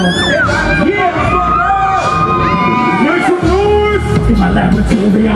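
A convention crowd at Comicpalooza 2013 screams, whoops and cheers loudly and without a break, a dense wall of high voices yelling together close around the listener.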